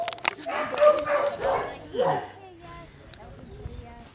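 A dog gives a few short barks and whimpering yips indoors at a dog-training session, fairly close, mixed in with people talking.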